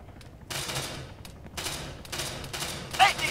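Machine gun fire in the ARMA 3 military game comes as several sustained bursts of rapid shots, moderately distant, separated by short pauses, with faint voices in the background.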